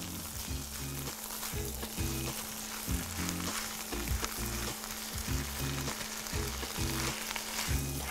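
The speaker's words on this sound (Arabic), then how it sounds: "شوحه كويس كده في قلب بعض." Chicken and onions stir-frying for chicken fajita crackle in a steady, close sizzle, broken by rhythmic scraping strokes of a utensil turning the food, with no voices.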